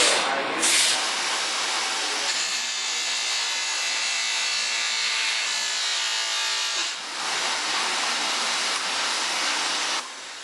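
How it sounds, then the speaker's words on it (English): A metal shaft being polished on a spinning cotton buffing wheel, a continuous close hissing whir that dips briefly as pressure changes and then carries on, heard without speech. "I'm just going to take it to a cotton buffing wheel, polish it, make sure there's no high spots or anything."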